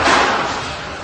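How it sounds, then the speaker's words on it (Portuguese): A loud, broad blast of noise from walkie-talkie devices exploding inside a building during an attack on Hezbollah, starting sharply and fading slowly over about a second with a faint thud near the end. "em que se ouve várias explosões"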